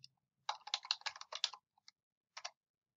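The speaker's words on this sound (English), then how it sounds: "Type in the password" Someone types a password on a computer keyboard, a quick run of faint, close keystrokes followed by a pause, a single tap and then two more keystrokes.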